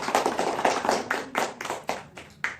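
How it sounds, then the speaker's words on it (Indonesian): Children in a classroom clap their hands together in brisk, uneven bursts, a short round of applause that is near and fairly loud, with no talking over it. "Kita tepuk tangan untuk kawannya yang pandai menjawab."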